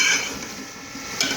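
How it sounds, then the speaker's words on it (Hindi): Peas frying in a pan for matar chicken, with short scraping stirs and soft sizzling under light clanks of a utensil against the pot, nearby and moderately loud, plus a brighter scrape near the end. "मटर डालने के बाद हम इसे भूनेंगे"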